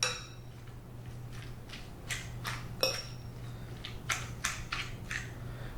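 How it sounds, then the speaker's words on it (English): A fork mashes softened cream cheese with mushrooms, spinach and garlic in a bowl, making a string of light clinks and scrapes at an uneven pace over a low steady hum. "with a fork, you want to take this softened cream cheese and just kind of mash it up a little bit"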